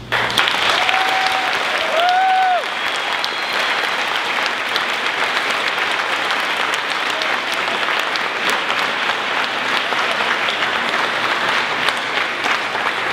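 Steady audience applause fills a room after a young writer's reading, dense and even clapping that carries on for many seconds with a few faint voices at the start.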